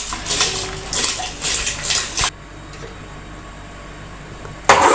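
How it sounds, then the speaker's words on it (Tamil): Bubbling, hissing water boiling in a pan for pongal churns loudly in bursts for a couple of seconds, then drops to a quiet hum before surging briefly again at the end. "தண்ணி நல்லா கொதிக்குதுப்பா"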